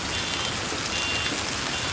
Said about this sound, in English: The cars are already beeping.